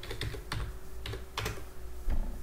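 Rapid, close clicks of fingers typing on a computer keyboard, in irregular bursts of keystrokes over a steady low hum.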